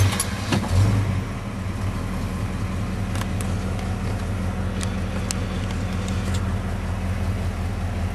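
1968 Oldsmobile Cutlass engine with a Rochester four-barrel carburetor idling steadily, a low, even rumbling throb with a brief louder surge at the start and faint clicks throughout.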